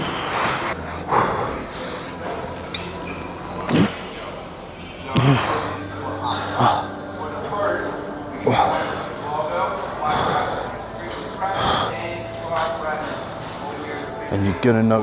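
Heavy breathing and snorting gasps from someone doing a push-day gym workout, coming in bursts between louder thuds and slams of equipment, with talking over much of it.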